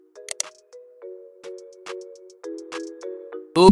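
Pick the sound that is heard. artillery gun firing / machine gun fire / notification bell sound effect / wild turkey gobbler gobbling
notification bell sound effect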